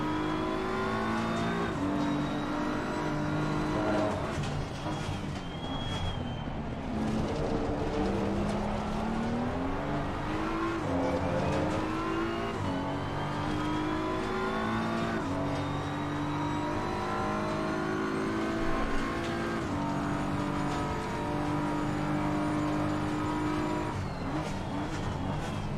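BMW M4 GT3 race car at Suzuka in Assetto Corsa Competizione, its engine roaring steadily through the last lap, pitch climbing and dropping with upshifts and downshifts, with brief tire squeal and no talk.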